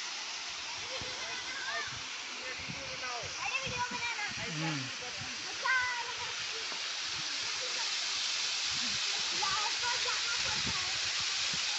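Steady roaring rush of a large waterfall near Kathgodam, Haldwani, fills the scene, with people talking faintly underneath the constant hiss.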